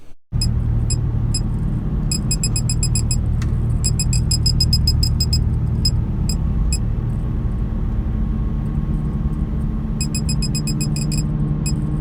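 An Aston Martin V8 Vantage car alarm sounds in repeated bursts of sharp, high electronic beeps in rapid clusters, pausing between bursts, over a steady low rumble close by.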